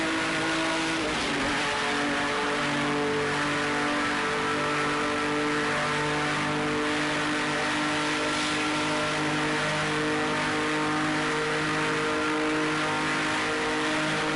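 Race car engine in a Le Mans racing game, its steady high-pitched whine holding a continuous tone with slight pitch shifts as it runs flat out down the track, loud and alone with no talk.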